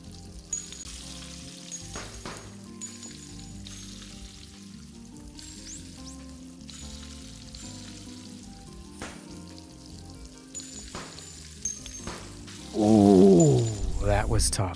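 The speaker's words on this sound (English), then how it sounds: "Just cook it. I don't even care if they explode." Eggs fry in a pan in the video game Arctic Eggs, a steady soft sizzle under background game music, swelling to a louder, bubbling sizzle near the end.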